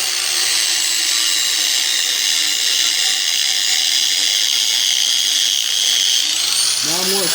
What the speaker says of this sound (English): Keep my angle, keep my grinder wheel about like this. It's going to pull that tip back in.